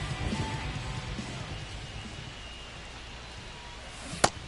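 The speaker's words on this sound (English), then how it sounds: "This rain is not letting up." Steady soft rain hisses over a ballpark in MLB The Show 25, a continuous wash of even noise that ends with one brief sharp crack near the close.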